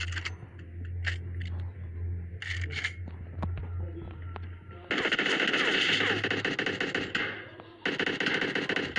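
Golden machine gun in the PUBG battle royale game, firing in rapid automatic bursts: short clipped volleys at first, then a long loud sustained burst of fire, a brief pause, and another burst.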